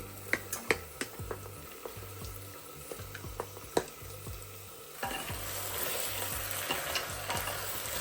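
Mutton is added to fried onions in a wok, with spoon taps and clinks at first, then a fuller, denser sizzle that builds and holds steady, close by with no voices.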